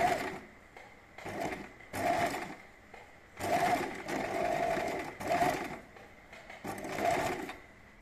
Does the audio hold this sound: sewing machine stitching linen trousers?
yes